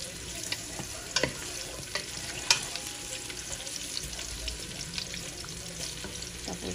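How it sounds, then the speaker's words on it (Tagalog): Onion and garlic sautéing in hot oil for pork adobo, a steady close sizzle and crackle with occasional sharp pops and stirring scrapes, no talking. "Ginigisa ko yung mga ingredients niya muna."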